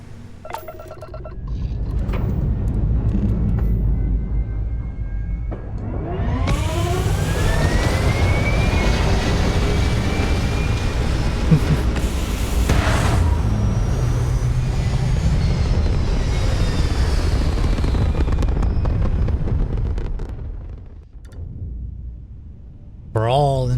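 A spaceship lifts off in the video game Starfield: a rising engine roar swells with sweeping tonal whines, holds loud and steady for several seconds, then cuts off abruptly; spoken voices occur around it.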